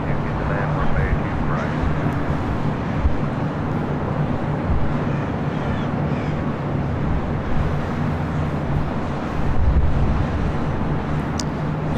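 An airliner landing on runway 24 right at LAX, a steady loud roar of engines and air rush that holds throughout, with faint talk underneath.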